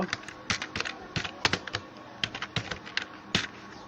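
Computer keyboard being typed on while writing HTML code, a quick irregular series of sharp close key clicks with short pauses between bursts, fairly quiet and with no talk.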